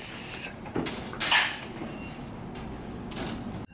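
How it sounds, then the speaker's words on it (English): A squeaky door swings open with a few short creaks and knocks, close and moderately loud against quiet room tone. "Whoa, that's a squeaky door."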